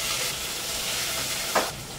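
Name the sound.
onion and curry leaves sizzling in hot oil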